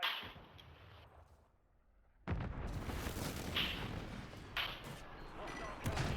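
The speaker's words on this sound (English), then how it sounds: "Hostile airstrike near your location." A hostile airstrike lands in a video game: after a quiet stretch, a sudden loud blast turns into sustained rumbling detonations with several sharper bursts.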